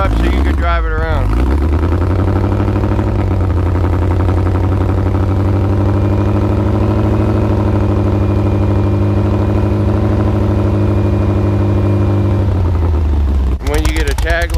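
A 1975 VW-powered trike engine idling steadily while warming up, loud and close, with a low even rumble and brief louder bursts at the start and end.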